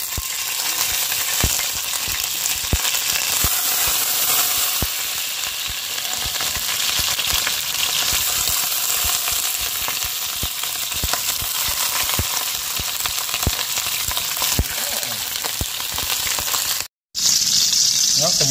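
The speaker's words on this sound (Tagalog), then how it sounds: "mainit na po yung ating kawali at mantika" Fish frying in hot oil in a pan, a loud continuous sizzle with crackling pops that runs almost without a break.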